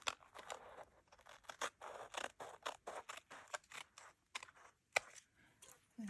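Scissors snip through quilt fabric in a quick series of crisp, close cuts, uneven in rhythm and fairly quiet, with no talking.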